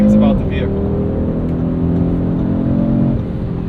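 A 2022 Audi RS 3 engine hums steadily with turbo boost while driving, a sustained layered drone that holds level for several seconds before easing slightly near the end, heard from inside the car.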